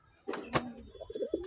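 Pigeons coo softly nearby, a pair giving a few short throaty coos and low burbling calls in quick succession.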